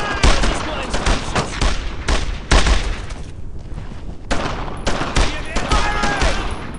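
Loud, dense gunfire from a World War II shooter, Brothers in Arms, with rapid bursts of rifle and machine-gun shots and heavy booms in repeated volleys, close and intense, with shouted voices mixed in.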